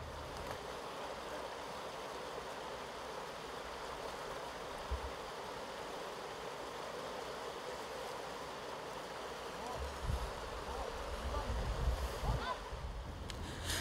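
A flowing river rushes steadily, crossed on foot by barefoot walkers against a strong seasonal current; a continuous broadband wash of water with a few louder surges near the end, no clear talk.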